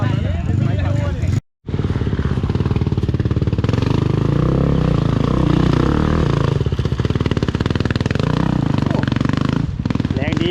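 A KTM motorcycle engine revs and runs steadily at close range through most of the stretch, with a brief cutout early on and a rough, clattering mechanical tone throughout.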